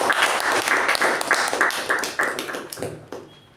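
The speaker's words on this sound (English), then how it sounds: "So let's give a huge round of applause for our acting sergeant" A small meeting audience claps for an acting sergeant, a loose round of hand claps with audible individual slaps that thins out and fades to silence near the end.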